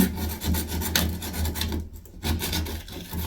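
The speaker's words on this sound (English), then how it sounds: "Which is why we're just taking off a little bit extra of the grout." Old grout being scraped out of tile joints during an apartment renovation in Paris, a steady close rasping and rubbing that pulses in short strokes, with a brief pause near the middle.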